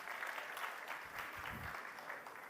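Brief applause from a conference audience for a speaker, a soft, steady patter of many hands at moderate distance, with a faint voice rising beneath it midway.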